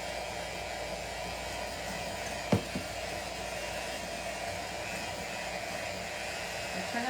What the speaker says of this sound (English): I'll turn up my mixer a bit.